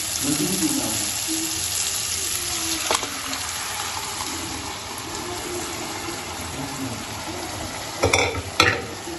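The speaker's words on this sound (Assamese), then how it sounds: "এতিয়া ইয়াতে মই বইল কৰি ৰখা ৰাজমাহখিনি দি দিম।" Boiled kidney beans are stirred into sizzling fried masala, a steady fry hiss with scraping and a couple of sharp clinks near the end.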